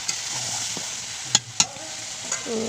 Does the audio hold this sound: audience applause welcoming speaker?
no